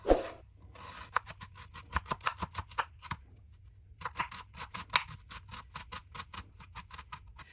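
Onions are chopped into small pieces with a knife on a board in a home kitchen, a quick run of crisp chops in bursts with short pauses in between, close and moderately loud.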